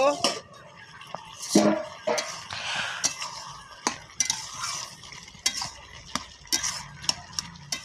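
Vegetables are stirred in a cooking pan with a metal utensil, giving repeated scraping strokes and sharp clinks over a soft sizzle. A voice speaks in short bits between the strokes.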